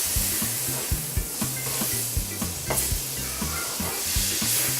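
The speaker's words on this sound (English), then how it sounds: "I like to spread the butter with my spatula like this" Butter sizzling loudly on a hot pancake griddle as a spatula spreads it, a dense continuous hiss with rhythmic scraping strokes underneath, close and steady, with no talking.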